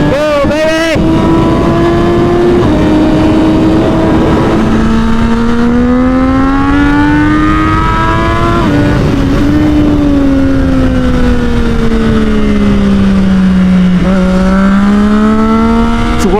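Triumph Daytona 675R motorcycle on a track, its engine note loud and close as it rises and falls through gear changes and revving runs, steady and continuous throughout.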